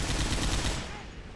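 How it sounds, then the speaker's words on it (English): Rapid gunfire from the zombie shooter Left 4 Dead, a dense loud burst of overlapping shots that fades out after about a second. "Take out your handgun and start shooting."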